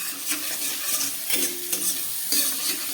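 Spice paste of ground cumin and chili powder sautés in a pan for Bengali fish curry, a close sizzle with repeated spoon scrapes and stirring strokes, no speech.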